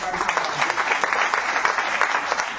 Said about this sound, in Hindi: मैं चाहता हूं जोरदार तालियों से